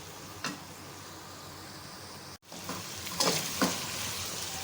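Chicken browning in a pan for a chicken gravy, giving a steady close sizzle and fry with brief stirring scrapes and louder crackling bursts toward the end.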